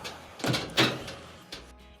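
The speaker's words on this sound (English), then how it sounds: "We'll go ahead and close the door." A clothes dryer door being shut during a repair, with a couple of close thumps and a lighter click as it latches.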